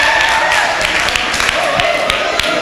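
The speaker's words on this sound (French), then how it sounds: "Des applaudissements pour Nancy Ousso" Studio audience applause during a French youth talk show quiz, a steady dense clatter of many hands filling the room, with a presenter's voice faintly over it.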